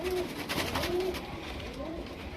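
A male Anekal-type pigeon with a short beak, thick head and slim body coos softly in a few repeated low phrases, close by, over a constant background hiss.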